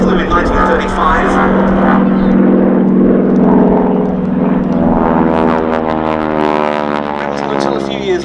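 A North American AT-6 Texan trainer flying at the Duxford Air Festival, a loud droning radial-propeller roar with shifting pitch, heard under a voice talking over it.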